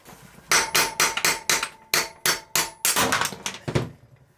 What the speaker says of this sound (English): you can just take like a extension all the way through and just hit it with a hammer, and this will pop out